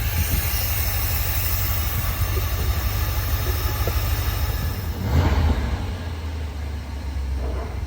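A 1972 Dodge W200 Power Wagon engine running steadily after years of sitting, a loud, close, rumbling idle with a brief rise in revs partway through before settling back.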